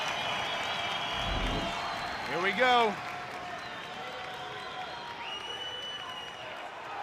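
Wrestling crowd at a Big Ten college dual meet, Michigan State at Rutgers, keeps up a steady murmur of applause and cheering with a brief swell midway, mostly underneath a commentator's voice.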